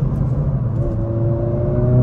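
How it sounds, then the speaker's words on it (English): A 2024 Honda Civic Si accelerating at about half throttle, its engine hum rising steadily in pitch under a low, constant cabin rumble, heard from inside the car. "Try out some passing power"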